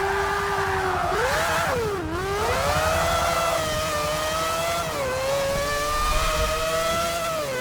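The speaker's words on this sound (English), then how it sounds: "Yep, rotary engine." A rotary-engine race car in the Forza Motorsport 7 video game revs hard and continuously, its loud buzzing engine note rising and falling through gear changes with no talking over it.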